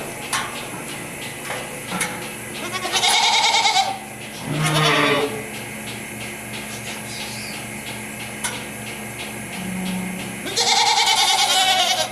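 Goats bleat on a farm in several loud, wavering calls spaced across the clip, with clattering and knocking sounds between them and no talking.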